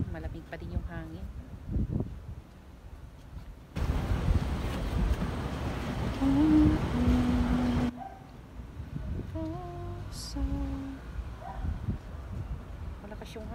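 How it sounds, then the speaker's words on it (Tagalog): Strong, cool wind gusts across a veranda overlooking a train station at sunset on a hot summer day. The blowing roars loudest in a burst mid-clip, with a voice talking before and after. "Malakas yung hangin."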